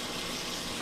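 Sausage cooking down in a pan, a steady soft hiss of sizzling and bubbling, close by and fairly quiet, with no talking over it.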